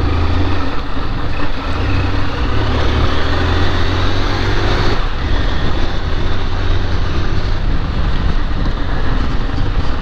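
A Honda CG 160 Fan motorcycle engine runs with a strange rattling noise like a loose part inside, a loud, continuous rough churning with wind buffeting the microphone.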